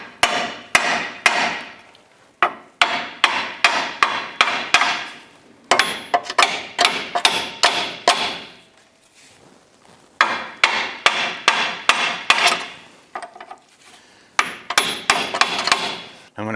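Sharp metal-on-metal hammer strikes on a chisel driven into a ball joint pinch bolt on a 2008-2013 Nissan Rogue come in rapid bursts of repeated blows, loud and close, separated by brief pauses.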